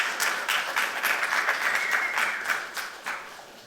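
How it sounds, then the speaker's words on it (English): An audience at a HarvardXR startup pitch showcase claps loudly and steadily in a sustained round of applause that fades slightly at the end, with no speech. "One last round of applause for our startup showcase"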